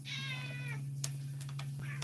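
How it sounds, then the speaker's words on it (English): A domestic cat gives a clear, drawn-out meow close up indoors, followed by a few softer short sounds and a steady low hum in the background. "You're my most vocal cat ever."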